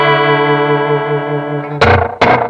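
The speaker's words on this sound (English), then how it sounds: "So that's the shortest delay time and the fastest warble. So that's that oil can spinning on really quick." Electric guitar through an Adineko oil can delay pedal at its shortest delay and fastest warble: a sustained wobbling chord, then two loud strummed hits with quick repeating echoes.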